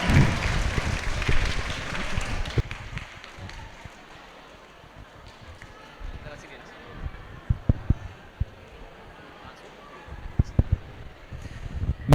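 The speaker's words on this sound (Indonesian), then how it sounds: "Kita sambut dengan tepuk tangan yang meriah Dr. Gamal Albin Said M. Biomed." An audience at a school event at SMK Negeri 7 Malang claps to welcome a speaker, a loud burst of applause at the start that quickly fades into quieter room noise and talk.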